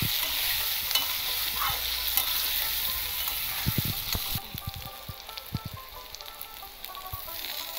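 Eggplant fries in hot oil for an eggplant and hilsa curry, giving a steady, close sizzle with scattered pops and crackles that grow sharper near the end, with no talking.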